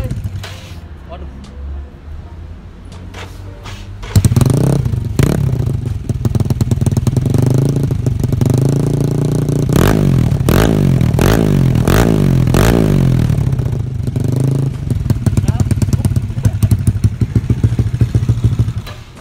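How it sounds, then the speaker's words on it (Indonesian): Yamaha Mio Soul scooter with a carbureted DOHC engine (2 valves, 2 camshafts) starts after a few cranking clatters, then revs hard and loud with repeated throttle blips, close by, with people talking over it. "Oke, kita coba nyalain motor."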